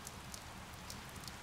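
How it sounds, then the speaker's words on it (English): Rain in Fire Emblem Three Houses: a steady, soft patter of rainfall with occasional louder drops standing out, continuous and fairly quiet across the short stretch. "It's raining, Professor."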